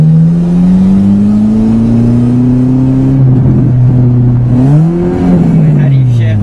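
A manual five-speed car's engine drones loudly and steadily as a learner driver gives it gas, its pitch rising slightly, then dipping and climbing again, with a person speaking over it.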